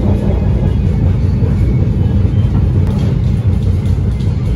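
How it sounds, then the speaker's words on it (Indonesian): Steady rumbling roar of the Argo Wilis passenger train in Indonesia rolling along the rails, loud and continuous with faint rhythmic clatter, no voices. "kereta api Argo Wilis tiba di stasiun Tasikmalaya"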